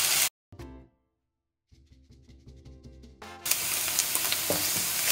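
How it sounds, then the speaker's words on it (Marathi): Onions with ginger garlic paste hit hot oil in a pan for lentil curry, sizzling sharply after a short silence and building into a loud, continuous frying hiss, close and alone. "आतां आमी हो कांदो भाजया until light golden in colour."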